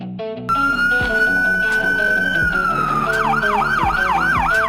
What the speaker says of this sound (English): United States police car.